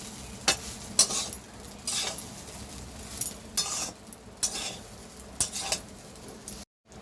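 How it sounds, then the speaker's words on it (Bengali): A spatula stirs and tosses mixed fried rice with pepper powder and sugar in a hot pan, giving repeated scraping strokes over a steady sizzle at close range, with no voices. "দিয়ে এবার ভালো করে মিক্স করে নেব।"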